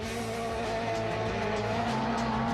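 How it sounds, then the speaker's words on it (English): Off-road pro light race trucks roar at full throttle on a Las Vegas dirt course, a loud, continuous engine drone with shifting pitch and tire noise, no talk over it. "Then as the race progressed on, it was Brian Deegan and Marty Hart going at it."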